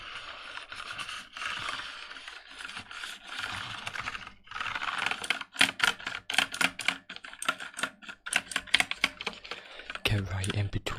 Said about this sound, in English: we're gonna start this video off with some keyboard cleaning